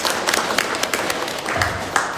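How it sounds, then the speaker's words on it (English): An audience applauds with a brief burst of scattered hand claps, moderately close, with some voices mixed in. "give them a round of applause"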